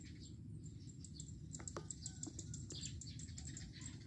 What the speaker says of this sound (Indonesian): disitu juga banyak ininya teman-teman burungnya ya ada banyak burungnya di sini